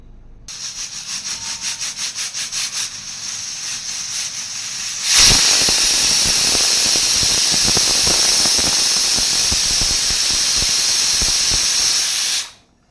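A pressure cooker boiling potatoes and eggs: a pulsing rattle of escaping steam for several seconds, then a loud, sustained shrill whistle blasting close by until it cuts off abruptly near the end.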